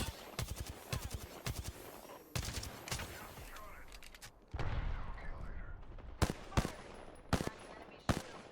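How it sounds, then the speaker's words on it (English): Gunfire in the battle royale shooter Apex Legends: rapid bursts of automatic shots in several volleys, some near and sharp, others sparser and further off, with a louder stretch midway. "I'm taking fire."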